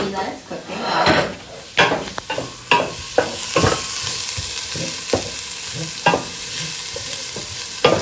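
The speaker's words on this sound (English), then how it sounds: "I'm going to mix up the garlic and onion in here so you can see that it's cooking up" Garlic and onion sizzle steadily in a pan while a utensil stirs them, scraping and knocking against the pan in irregular bursts; a voice speaks briefly in the background.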